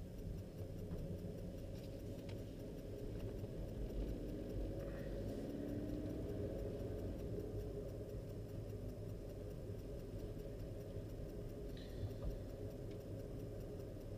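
A warm Skoda Fabia Combi 1.2 CRI TDI diesel hums steadily from inside the car while pulling in third gear, a continuous low-pitched drone with a faint ticking and occasional small clicks, no talking.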